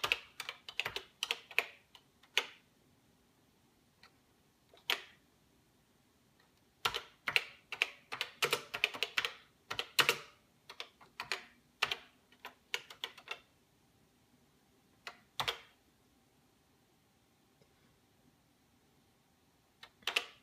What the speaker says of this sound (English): Just typing with one hand here is complicated.